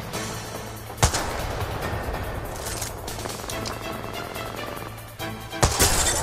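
Kraber sniper rifle shots in Apex Legends, two loud sharp cracks about five seconds apart over continuous gameplay noise and background firing.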